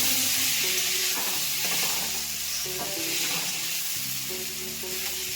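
Pulao rice with turmeric being gently stirred in a hot pan, a steady close sizzle with soft scraping and shuffling strokes at a relaxed rhythm, no voices.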